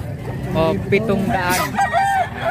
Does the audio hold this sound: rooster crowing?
yes